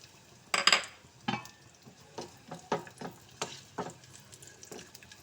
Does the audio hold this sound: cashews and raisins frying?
yes